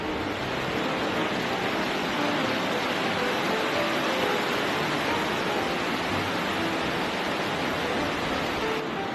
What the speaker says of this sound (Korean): 물소리가 굉장히 듣기 좋습니다.